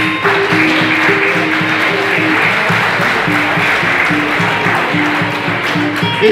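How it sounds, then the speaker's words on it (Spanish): Strong applause from a tango concert audience in Buenos Aires, a dense steady clapping that fills the room, with a low sustained tone or music running beneath. "a los que pido un fuerte aplauso"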